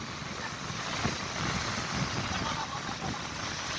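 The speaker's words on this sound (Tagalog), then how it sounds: "Sobrang lakas po ng hangin." Strong wind at the sea buffets the microphone in a constant broadband roar, with a hint of water and surf behind it.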